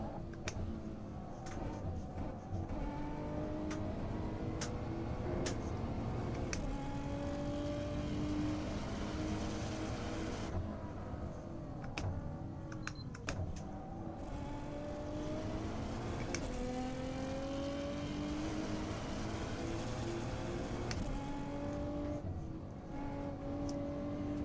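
A race car engine in Assetto Corsa revs and shifts through gears in a steady, rising-and-falling drone, fairly quiet, with occasional ticks and no talk.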